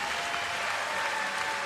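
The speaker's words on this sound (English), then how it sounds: "And huge applause for our athlete who leaves the" A crowd at a Commonwealth Games weightlifting event claps steadily in a brief burst of applause, even and sustained, heard from a moderate distance.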